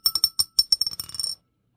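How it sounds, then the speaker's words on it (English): A die tumbling across a board-game table, a quick run of bright rattling clicks and bounces that speed up and fade out in just over a second, close and alone. "Roll a die."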